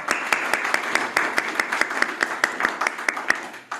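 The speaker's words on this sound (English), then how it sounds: "Everybody give her a round of applause" A small Guild meeting audience applauds a new newsletter editor, with sparse, distinct handclaps at close range, a few people clapping in loose rhythm.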